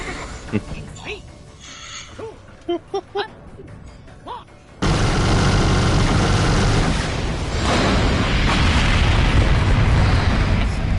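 A rocket blows up in the shooter game Borderlands: The Pre-Sequel, a sudden loud booming blast that cuts in after scattered game sounds and rumbles on as a dense, sustained roar.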